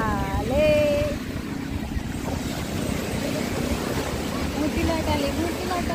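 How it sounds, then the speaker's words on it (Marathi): Ocean waves breaking on Arnala beach, a continuous close wash and surge of surf with wind noise on the microphone, while people shout and talk over the water. "मोठी लाट आली. मोठी लाट आली."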